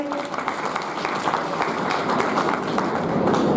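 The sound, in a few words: audience applause welcoming a guest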